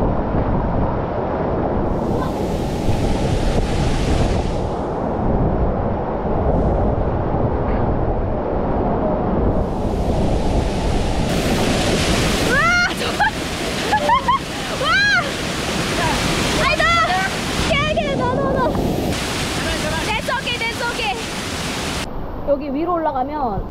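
A waterfall in the Philippines roars as a steady, loud, broadband rush of falling water throughout, with people talking over it in the second half.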